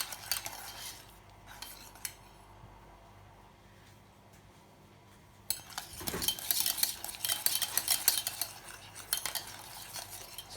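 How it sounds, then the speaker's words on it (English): A utensil stirs a thickening mixture in a pot for a Hokkaido milk loaf, starting as faint scattered scrapes, then turning into brisk, loud, continuous scraping and clinking against the pot in the second half. "Keep on stirring."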